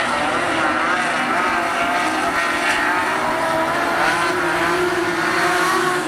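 Commodore and Falcon race cars battling at Rockhampton Speedway during a modified-productions race, a loud, continuous engine roar with sustained droning and faint shifts in pitch, with no voices.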